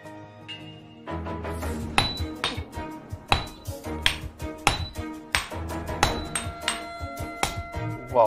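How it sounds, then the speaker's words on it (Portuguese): A master smith hammers steel flat while forging a Japanese sword, producing sharp ringing metallic strikes in an irregular but steady rhythm that come close and clear, each blow followed by a short bright ring. "usando martelos, o mestre ferreiro achata o aço."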